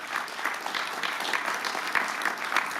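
Crowd applause at a ribbon-cutting ceremony for the new Bluefield Area Transit, a modest outdoor gathering clapping steadily with distinct individual hand claps audible within the wash.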